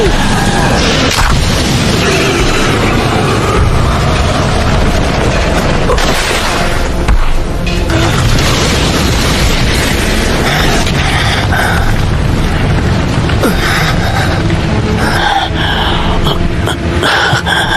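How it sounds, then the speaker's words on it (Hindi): Fire style dragon flame jutsu blast in a Naruto Shippuden fight scene, a loud continuous roaring, booming burst of fire with crackling surges that fills the whole stretch. "fire style dragon flame jutsu"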